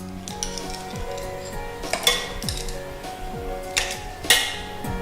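Ice cubes drop into a glass holding lemon juice and sugar for a green tea drink, giving a few sharp, bright clinks at irregular intervals over a low background hum.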